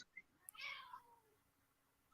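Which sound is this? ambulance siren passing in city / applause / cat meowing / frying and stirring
cat meowing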